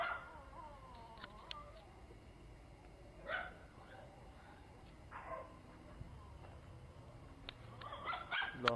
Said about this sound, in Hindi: ये इंसान को देख के भौंकना नहीं।